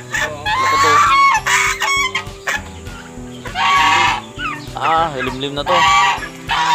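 A goose on a farm honks loudly and repeatedly in bursts, nearby birds joining in, while people talk briefly in between.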